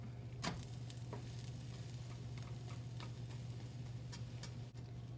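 A keto grilled cheese sandwich, flipped in a pan, gives off a faint, steady sizzle with a few scattered ticks and pops.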